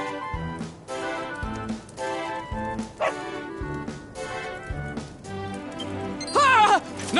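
Short dog barks and yips from Dragon Quest XI, repeating in a loose series over layered game music, ending in a brief whimpering flurry.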